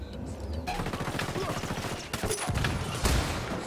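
Rapid automatic gunfire in the tactical shooter Ghost Recon Wildlands, dense crackling bursts sustained throughout, loud and close, with some voice chatter underneath.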